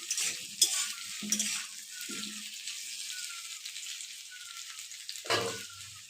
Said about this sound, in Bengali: একবার নেড়ে দিচ্ছি